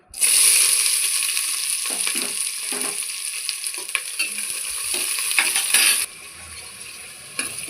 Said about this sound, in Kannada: ನಾನಿವಾಗ ಈ ಈರುಳ್ಳಿನ ಹುರ್ಕೊತಾ ಇದ್ದೀನಿ